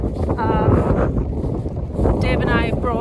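Heavy wind buffets the microphone in low, rumbling gusts, with a person talking underneath the noise.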